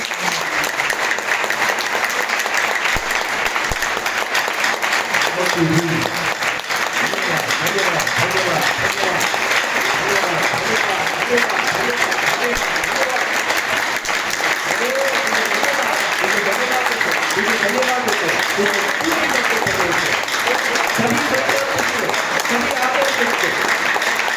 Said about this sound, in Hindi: प्रभु के लिए ताली दे।